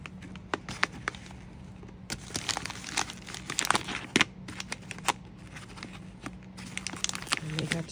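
Crinkling and rustling of wrapping paper as a Secret Santa gift package is opened up close, with scattered sharp crackles and tears, while a person talks throughout.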